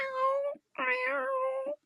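Someone imitates a cat with their voice: two drawn-out, clear meows separated by a short pause, close and fairly loud, with no other talk.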